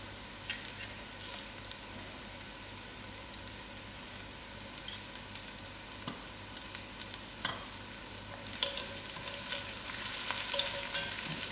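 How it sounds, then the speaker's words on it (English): Biryani mixed spices frying in a pan for a slow-cooked trotters and beans braise, a steady close sizzle with occasional stirring scrapes and crackles, growing slightly louder toward the end. "allow it to fry till it's gone to a golden brown"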